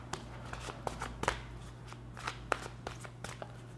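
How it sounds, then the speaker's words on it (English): Tarot cards are shuffled and pulled by hand close up, giving soft rustling with repeated light snaps and flicks in an uneven rhythm, with no talking. "I'm going to pull some high-level advice and guidance cards."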